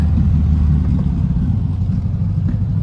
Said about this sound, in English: the exhaust is really, really loud